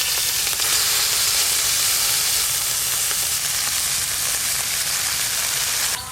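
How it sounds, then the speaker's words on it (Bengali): Small fish fry crisp in hot oil for a mashed-fish dish, a loud, dense and unbroken sizzle with a bright hiss that holds steady throughout, close up and with no voices. "ভর্তা করবো তো ছোট মাছে, তাই মাছগুলো একটু মচমচে করে ভেজে নেবে।"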